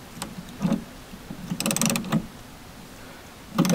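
A socket wrench turns a fuel filter on a Cummins Onan RV generator, giving a few scattered ratcheting clicks and mechanical rattles, close and moderately loud, with pauses between bursts.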